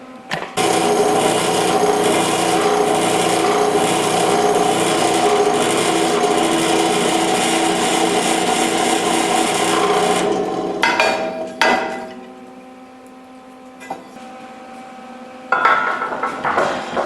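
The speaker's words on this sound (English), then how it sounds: "let's go drill this" Drilling into the metal of an RV bumper during a bumper reinforcement job, a steady loud grinding whine running about ten seconds, then stopping with a few short bursts and lulls.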